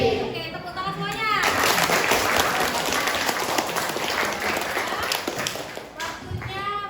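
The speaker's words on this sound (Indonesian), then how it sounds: "Oke, tepuk tangan semuanya." A classroom of students claps together, a dense burst of applause lasting several seconds, with a teacher's voice just before and after it.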